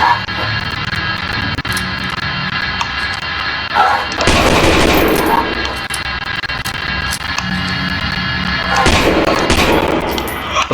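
Bursts of gunfire in the game Lost in Vivo crackle over a constant electronic music bed, with two longer, louder volleys standing out midway and near the end.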